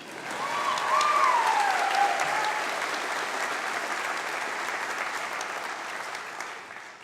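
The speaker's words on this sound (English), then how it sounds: "What about giving another round of applause to the Dean for reading all of the names?" Another round of applause at a university convocation, this time for the dean who read the graduates' names; a broad wash of clapping rises quickly and holds evenly, with a faint whistle near the start.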